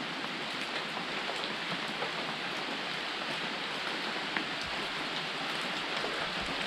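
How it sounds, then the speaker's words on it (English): Rain falls steadily on a hiking trail, a broad, even hiss with faint scattered drop taps, continuous and moderately loud with no voices. "I thought I'd show you what rain looks like, in case you didn't know."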